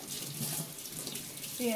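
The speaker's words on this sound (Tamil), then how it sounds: "நீங்கள் இப்படியும் தண்ணி ரன்னிங் வாட்டரில் காட்டலாம்" Tap water runs steadily into a sink, rinsing milk solids curdled with lemon juice while making kalakand milk cake, a close continuous splashing stream.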